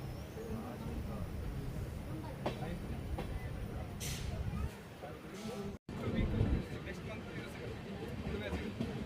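A passenger train pulls out of Birur Junction on the line toward Shivamogga with a continuous rumble and clatter heard from inside the coach. Someone talks over the noise, and there is a brief cut near the end.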